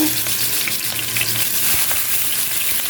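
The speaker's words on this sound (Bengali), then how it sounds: "পাবদা মাছ কিন্তু ভাজার সময় ফুটে একটু সাবধানে ভাজবেন" Pabda fish fry in a little oil in a frying pan, giving a continuous close crackling sizzle with occasional pops and stirring, steady in level throughout.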